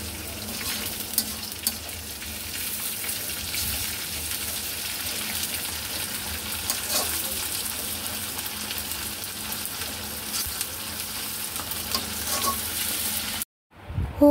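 Dried fish sizzles loudly in a pan with fried chopped garlic and onion, a steady continuous frying hiss with occasional stirring scrapes, close up, ending in a brief drop to silence.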